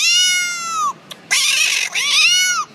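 A hand-held whistle imitates a cat's meow: two long, wavering, rising-and-falling mews with a brief click between them, loud and close, with no talk over them.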